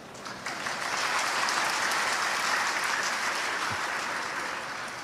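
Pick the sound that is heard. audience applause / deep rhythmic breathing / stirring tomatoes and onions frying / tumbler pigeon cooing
audience applause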